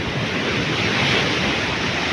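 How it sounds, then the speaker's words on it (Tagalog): Large ocean waves on the South China Sea making a steady, dense roar of surf and wind, loud and continuous with no gaps. "Nakita nyo guys yung malaking alon yun."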